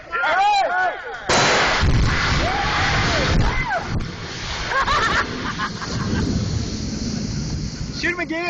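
Outdoor bonfire explosion, a sudden heavy boom followed by wind-buffeted rumbling and crackle, with voices talking and calling out around it.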